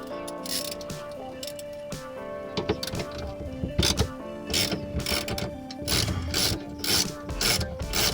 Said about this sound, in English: these are self-tap screws that I used to sink it into the wall of the cabinet